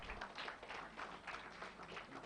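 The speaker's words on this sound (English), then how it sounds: "Please give them a round of applause" Audience applause at a school awards grand finale, a dense, steady wash of many hands clapping that holds evenly and fairly distant throughout, with no clear voices over it.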